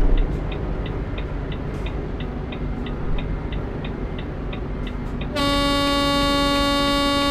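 A truck horn in Euro Truck Simulator 2 multiplayer blares loud and sustained for the last couple of seconds, after a stretch of regular ticking like a turn signal over a low engine drone.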